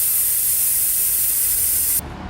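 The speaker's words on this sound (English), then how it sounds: "This is going to release all the air pressure out of the tire" Air hisses steadily out of a Cessna 172 tire as its Schrader valve is held open, a loud continuous spray of noise that cuts off abruptly after about two seconds.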